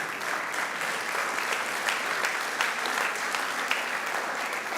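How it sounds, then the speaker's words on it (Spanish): Steady, dense applause from a large church congregation, sustained at an even volume throughout without any voices rising above it. "Imagínate dar un fuerte aplauso por eso."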